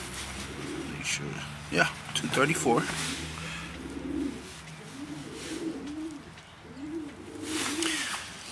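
Racing pigeon that flew a 2020 Hoosier Classic season, cooing in repeated soft rolling coos close by, with a few short bird calls and someone speaking briefly early on.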